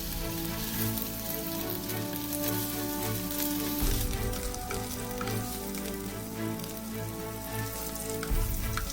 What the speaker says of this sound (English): It is time to sear our steak.